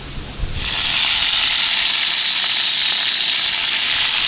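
Two steaks sizzle in an uncovered frying pan, cooked outdoors on a cycling trip. A soft thump gives way to a loud, steady, close frying hiss that holds without pause.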